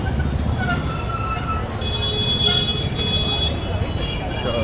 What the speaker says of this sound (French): Donc voici le train, il y a le métro.